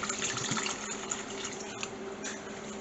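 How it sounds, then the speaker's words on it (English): Water is poured into a pot of chicken curry with coconut milk, a continuous close splashing gush that runs for a few seconds. "I'll add the same amount of water."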